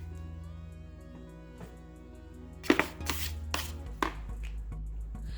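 A knife cuts into avocados on a cutting board: after a quiet hum, a few sharp thuds and clacks of the blade striking the board land close by, with no talking.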